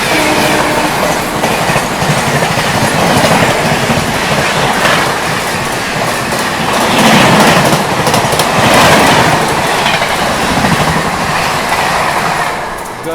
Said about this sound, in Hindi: गजब की रफ्तार में गई है भाई झेलम एक्सप्रेस